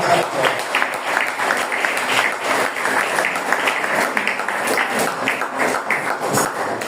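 Congregation clapping during a Spanish-language church sermon, lively and fairly loud, with rhythmic, individually distinct claps running throughout and a voice faintly mixed in.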